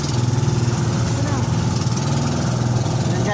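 Two engines on a small outrigger boat keep up a steady, throbbing chug at close range, with a voice talking over the running engines.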